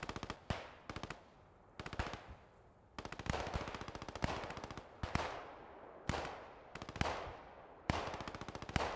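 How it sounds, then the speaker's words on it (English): MG42 machine gun in the WWII game Post Scriptum firing repeated rapid bursts, each a fast rattling string of loud shots separated by short pauses, with nearby battle noise between them. "MG42 opening up a few bursts as well"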